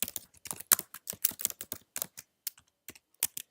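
Rapid bursts of keystrokes on a computer keyboard while JavaScript code is written, close and crisp, uneven clusters of clicks with short pauses and no talking.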